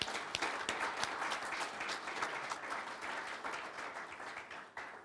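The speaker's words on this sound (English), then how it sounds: "they deserve a round of applause as well" An audience at the first Executive Congress of Asgardia gives sustained applause, a thick, even clatter of many hands that carries on for several seconds before easing slightly at the end.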